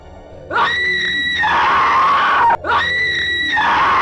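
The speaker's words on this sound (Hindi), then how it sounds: "राकेश जोर जोर से चिल्लाने लगा।" A man screams loudly in a horror story, two long anguished cries with a short break between them, close and strained, with no other sound around them.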